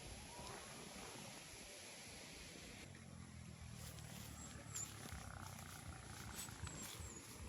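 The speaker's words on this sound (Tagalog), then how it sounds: "Rinig naman po ninyo ang ugong ng sasakyan." A low, steady hum of a vehicle passing in the distance on a rural farm lot beside a river, swelling slightly partway through beneath constant outdoor ambience.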